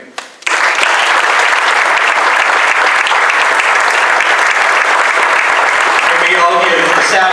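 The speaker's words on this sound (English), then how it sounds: "a big round of applause" Audience applause at a university anniversary rededication ceremony starts abruptly after a brief sound and holds as a loud, dense, continuous wash of clapping for several seconds, close to the listener.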